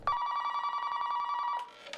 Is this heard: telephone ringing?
yes